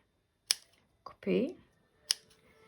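Scissors cut during a French-language craft demonstration, giving a few sharp, isolated snips spread over a couple of seconds. A short voiced sound falls between the snips, and the scene is otherwise quiet.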